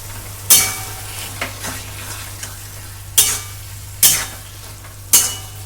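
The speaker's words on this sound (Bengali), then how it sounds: "সুন্দর করে মিশিয়ে দেব।" Cooked leafy greens being stirred and mixed in a hot pan with salt, sizzling steadily while a utensil scrapes and knocks against the pan in several sharp, separate strokes, close and clear with no talk.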